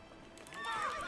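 A horse in The Witcher Wild Hunt whinnies loudly and close, rising into a bright, quavering neigh in the second half, over faint clip-clop of hooves and low game ambience.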